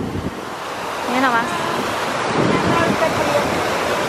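Water splashes and rushes steadily in a fountain, up close, while people talk briefly over it and wind buffets the microphone.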